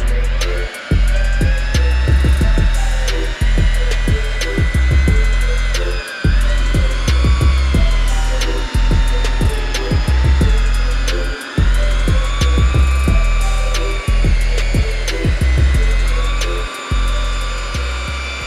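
A power polisher with a pad buffs the paint on a black Chevrolet Silverado, its steady motor whine loud and close and broken by short regular pauses and shifts in pitch as the tool works across the panel.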